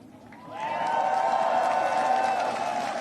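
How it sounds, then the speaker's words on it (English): A crowd of tens of thousands at Warsaw Royal Castle swells into sustained cheering and applause, loud and dense, rising after the first half second and holding steady with whoops and a broad roar. "Among the crowd of tens of thousands gathered at the Warsaw Royal Castle"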